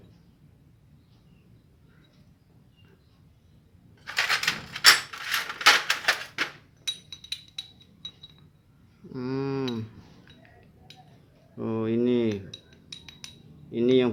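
Worn, loose CVT front pulley bushing and roller housing from a Yamaha Mio Sporty scooter, handled off the bike, giving bursts of metallic rattling and clinking, close and fairly loud, followed by someone speaking briefly in between.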